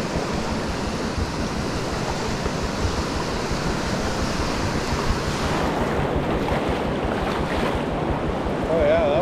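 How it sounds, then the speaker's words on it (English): Whitewater from a rapid on a Yukon wilderness river rushes past a solo canoe, a loud, continuous churning roar with wind buffeting the microphone, growing slightly louder toward the end. "on the way there it looks like we got another rapid here"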